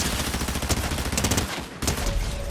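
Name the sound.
Valerius Mythic SMG gunfire in Fortnite video game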